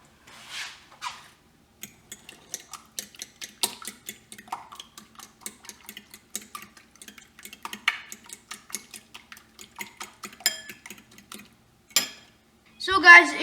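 Beaten eggs and chopped green onions are stirred in a bowl, giving a quick, irregular run of light clinks and taps of utensil on dish, close and fairly quiet, with a brief clatter near the end.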